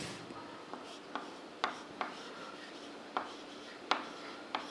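A pen writes on paper in a quiet room, giving soft scratching strokes punctuated by about eight light, distinct taps at irregular intervals.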